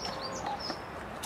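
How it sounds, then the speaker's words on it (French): Soft, faint chicken calls and low clucking sound in a quiet outdoor setting, from hens in their enclosure near their henhouse. "voilà les poules, leur enclos et leur cabane"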